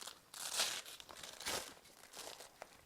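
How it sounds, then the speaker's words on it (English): Velcro on a Kifaru Shape Charge pack tears open in a few short, rasping rips at close range. The strokes are crisp and fairly quiet, with brief pauses between them. "as you unvelcro it"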